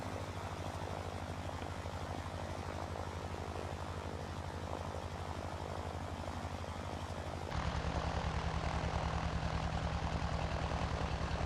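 Propeller drone of a Beechcraft D18 Volpar on landing approach over Guam as flaps roll out and speed is reduced, a steady loud cabin engine hum that shifts to a deeper, stronger tone partway through, with no talking.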